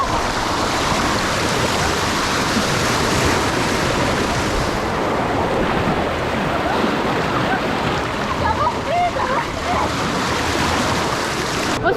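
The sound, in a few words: rushing water on wild river ride at Rulantica water park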